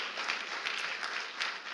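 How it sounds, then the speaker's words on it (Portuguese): A church congregation claps together in steady, dense applause for a short stretch, even and sustained without voices on top. "Dá uma salva de palmas a Jesus"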